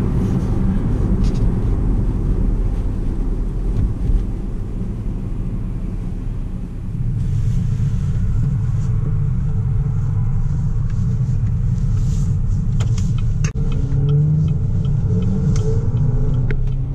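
A 2014 Buick Regal GS AWD accelerates gently with its engine as a steady low rumble heard from inside the cabin, rising slightly partway through and continuing without speech.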